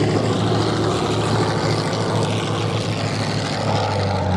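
A German observation aircraft flies low past the crowd at a Duxford air show, its propeller engine giving a steady, loud drone that holds throughout with no talk over it.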